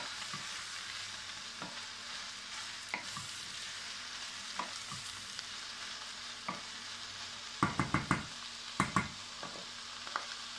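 Onions sweat in a hot pot with garlic, thyme and bay leaf as the base of an onion soup. A soft, steady sizzle runs throughout, and a cluster of sharper spoon scrapes and clacks against the pot comes near the end.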